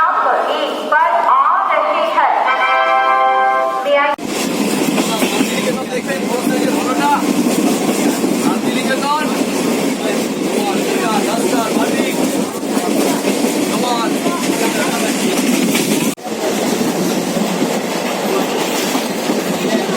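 A train rolls past a station platform close by with a steady rumble and rhythmic clickety-clack of wheels, voices faintly audible.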